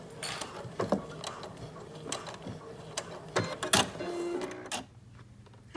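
A home sewing machine stitches around a jacket seam, giving quick bursts of mechanical rattling and clicking with short pauses, close and moderately loud, ending with a brief tie-off stop.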